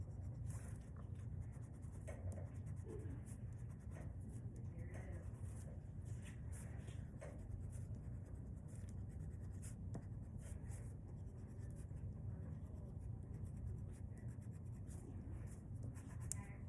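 A white crayon scratches over turtle claws drawn on paper in soft, continuous strokes, close and faint against a quiet background.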